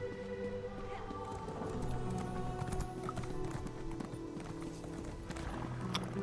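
Horse hooves clip-clop steadily over continuous background music and ambience in the game Elder Scrolls Online, with a brief whinny-like sound, moderately loud throughout.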